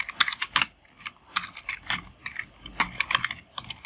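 Computer keyboard typing in an MS Word document, a quick run of key clicks in short bursts with brief pauses, close and clear, with no talking.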